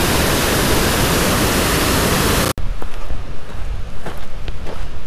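Mountain creek near the Onion Valley trail in the Eastern Sierra rushes as a steady, loud broadband wash, then cuts abruptly to a quieter stretch with faint water and a few scattered clicks and taps.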